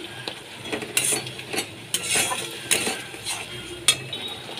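A paste of tomato, onion, ginger, garlic and green chili is stirred with turmeric in a pan, giving a soft frying sizzle broken by repeated scrapes and clinks of a spatula or spoon.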